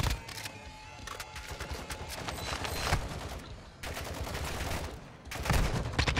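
Bursts of automatic rifle fire from hostile bots crackle through a Call of Duty DMZ match, repeated volleys separated by brief pauses, fairly loud and close.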